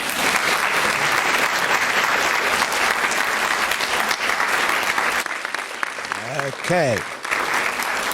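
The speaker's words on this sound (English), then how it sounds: "first we'll have a big round of applause." Lecture audience applauds at length, dense clapping filling the room for about five seconds before it thins out and a voice speaks briefly over the tail.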